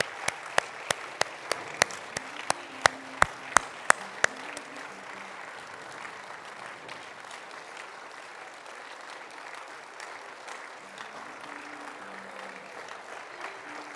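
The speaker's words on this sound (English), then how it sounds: "give a huge round of applause to all of the recipients for 2023 and 2024" Applause for award recipients at a university honorary doctorate and gold medal ceremony, opening with a few sharp nearby claps that merge into a softer, steady wash of many hands in a large room.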